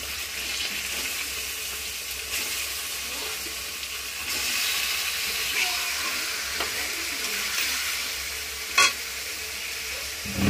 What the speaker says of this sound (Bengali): মাংসটা দিয়ে একটু ভালো করে কষাবো।